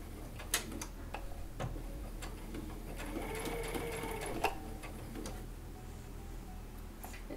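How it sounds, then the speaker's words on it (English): A sewing machine runs steady straight stitching with back-stitching on an in-the-hoop appliqué bunny slipper, a close, continuous mechanical whir broken by a few sharp ticks and clicks, with no talking. "Just straight stitch, and I do want to make sure that I back stitch this time."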